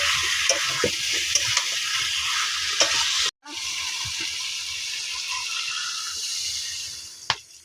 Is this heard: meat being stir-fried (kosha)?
yes